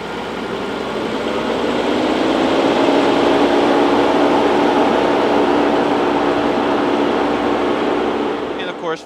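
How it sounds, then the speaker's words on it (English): A Mercedes CL65 AMG V12 idles with a steady, loud whirring drone and a screaming engine cooling fan on a hot 90-degree day, holding level before cutting off at the end. "we'll go ahead and start up this V12 because that startup is"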